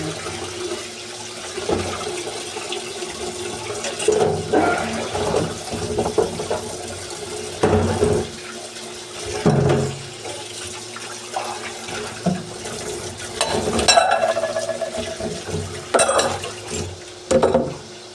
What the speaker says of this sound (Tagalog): pagtapos na tayo maghugas ng plato ngayon